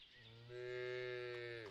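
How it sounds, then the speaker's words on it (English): Cattle low in the village-building game Ostriv, one long sustained moo that swells after a quiet start and holds steady, loud and close, with no talk over it. "Yeah, moo cows."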